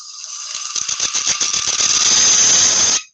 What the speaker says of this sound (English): tool vibrating on the wood.